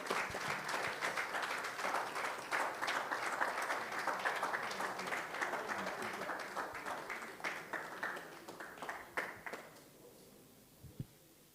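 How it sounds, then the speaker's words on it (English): An audience at a dental event applauds steadily for about nine seconds, a dense wash of many hands clapping that thins out and fades, leaving a couple of scattered final claps. "Can we please continue to give her a round of applause till she gets to her seat?"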